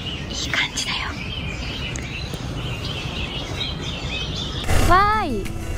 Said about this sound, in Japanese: 鳥のさえずりがいい感じだよ。